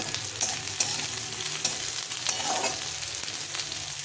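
Onion sizzles steadily in hot oil in a pan for upma, a continuous close hiss broken by a few sharp clicks of stirring.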